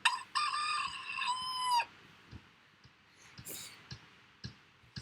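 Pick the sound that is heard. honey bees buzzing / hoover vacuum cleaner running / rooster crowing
rooster crowing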